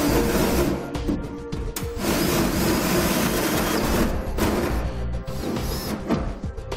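A 3.5 inch hole saw grinds through the steel bed of a 2018 Ram 2500 pickup, giving a loud, harsh, continuous cutting whine with rough rattles and brief dips as the bit bites.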